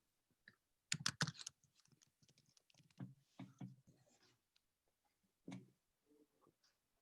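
Computer keyboard typing during an online meeting, quiet scattered clicks and short bursts of keystrokes, close but faint, with no talking.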